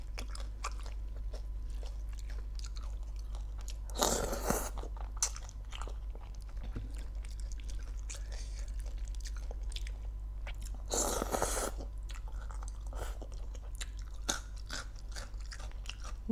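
Crunchy papaya salad with crispy fried pork is chewed close up, steady soft mastication punctuated by two sharp, loud crunching bites amid quiet low background hum.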